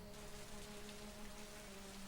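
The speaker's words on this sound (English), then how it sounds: "Just a drizzle." Light drizzle falling steadily outdoors, a faint even patter of raindrops under a soft, constant low hum, with no voices.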